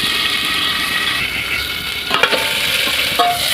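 Fried pointed gourd and potato are sautéed in a pan with a continuous, fairly loud oily sizzle, broken by a few sharp scrapes and clinks of a spatula toward the end; no one speaks.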